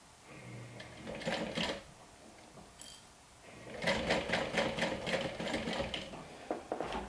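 A sewing machine stitches a quarter-inch seam along a crossbody bag handle in two quiet, close bursts of rapid whirring, a short one early on and a longer run after a pause with a faint click.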